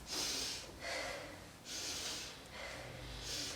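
Several slow, audible breaths repeat in a steady rhythm, close to the microphone and soft overall.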